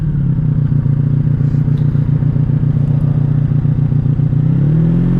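A 1984 Honda Sabre VF1100S motorcycle engine drones steadily while being ridden, a loud, close, continuous low rumble with a rapid pulsing beat that shifts slightly near the end.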